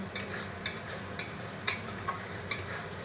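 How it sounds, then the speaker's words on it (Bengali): Spice masala is stirred and sautéed in a pan, a quiet sizzle underneath five or six evenly spaced sharp spatula taps against the metal, close and fairly faint, with no talking. "এইভাবে নাড়াচাড়া করে মশলাটাকে সুন্দর করে কষিয়ে নেব"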